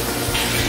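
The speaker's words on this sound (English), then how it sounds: "I always like to rinse off the egg" Water runs from a kitchen faucet as an egg is rinsed under it, giving a brief, steady splashing hiss close to the listener.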